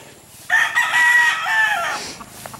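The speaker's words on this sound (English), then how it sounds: "And the ubiquitous rooster." A rooster crows once, close and clear, in a rural village in the Philippines, a single drawn-out call lasting about a second and a half over quiet background.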